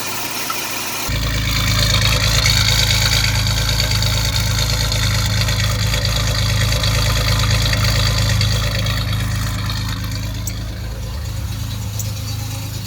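A 1989 Chevrolet Celebrity with a 2.8 V6 engine, misfiring from an intake manifold vacuum leak, idles with a loud, steady rough drone and a rattle, rising slightly early on and easing toward the end; no talking.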